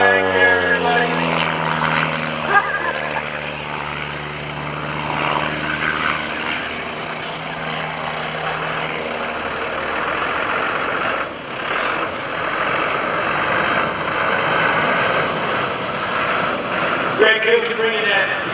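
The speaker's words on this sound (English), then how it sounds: "Greg Koontz bringing that Extreme Decathalon around." Greg Koontz's Extreme Decathlon aerobatic airplane making a low pass at the 2014 Greenwood Lake Airshow, its propeller engine droning steadily with a falling pitch as it passes, while a voice talks over it.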